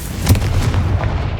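A deep booming blast from the Confringo explosive spell in the video game Hogwarts Legacy, a loud low rumble lasting over a second with crackling debris on top.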